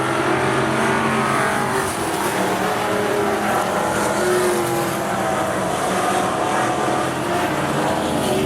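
Race cars at Rockhampton Speedway power out of turn four, a dense, loud roar of several engines blending and swelling throughout, with little else audible.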